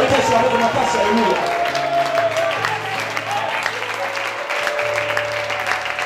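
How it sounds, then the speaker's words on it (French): A church congregation at an Easter seminar applauds and cheers throughout, with sustained musical tones and voices mixed into the clapping. "Alors acclame Jésus-Christ."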